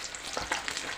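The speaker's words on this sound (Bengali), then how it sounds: "এখানে আমি রুই মাছ ভেজে নিচ্ছি একটু লাল করে" Rohu fish pieces frying in hot oil until reddened, giving a steady close sizzle with small crackling pops throughout, no voices.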